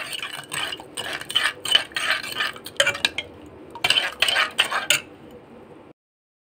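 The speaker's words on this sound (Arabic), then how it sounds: "هنقلبهم لما تتقل كده معانا يا بنات" A spoon stirs milk, sugar and starch in a pot for kanafeh, giving repeated scraping and clinking strokes in irregular bursts, close and fairly clear, ending in a short silence.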